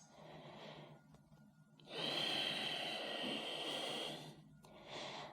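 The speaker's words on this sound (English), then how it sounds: "Take 5 breaths here. So nice, deep breaths." Slow, deep breaths held in downward facing dog during an arm balance yoga flow, a soft inhale then a long, louder whooshing exhale and another quiet breath, close and alone in a still room.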